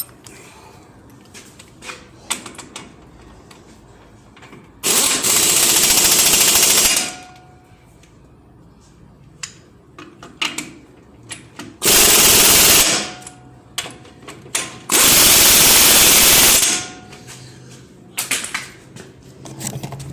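An impact wrench tightens a brake caliper bolt on a 2017 Dodge 2500 heavy-duty Cummins turbo diesel truck, firing in three loud hammering bursts of about two seconds, one second and two seconds, with quiet clinks of handling between.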